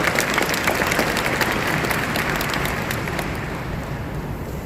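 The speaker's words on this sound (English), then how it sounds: "Please give a big hand to our great panelists." A seminar audience at Sustainability Expo 2022 claps for panelists, loud dense applause filling the room and tapering only slightly, with no one speaking over it.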